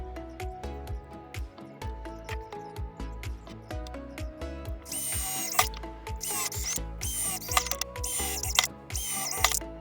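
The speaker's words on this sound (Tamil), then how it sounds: "கரெக்டாக இந்த பொசிஷனில் மார்க் பண்ணி ஹோல்ஸ் போட்டுக்கிறேன்." Power drill boring mounting holes for a mini amplifier audio board, heard as bursts of close whirring with rattling ratchet-like clicks, getting louder and more intense in short pulses during the second half.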